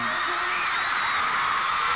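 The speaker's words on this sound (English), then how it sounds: "the hundreds of girls behind those lung-defying screams" Hundreds of girls screaming at a boy band concert, a loud, sustained wall of high-pitched shrieks and whoops filling the whole moment.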